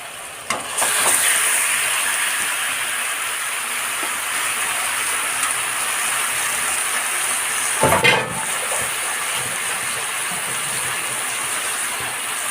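Meat marinated in yogurt, turmeric, salt and dried chili powder frying in hot oil, a steady loud hiss throughout with a sharp burst as more goes into the pan.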